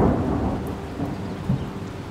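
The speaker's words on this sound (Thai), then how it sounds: "วันนั้นฝนตกหนัก" Heavy rain pours steadily with deep rolling thunder rumbling underneath, a dense continuous storm wash with a brief louder crack of thunder near the end.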